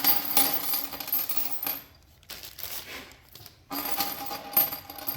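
A bag of bolts for a G6 belt grinder assembly is dumped out onto a surface, giving a burst of metallic clattering and jingling at the start, a quieter stretch, then another run of clinking parts, close and fairly loud.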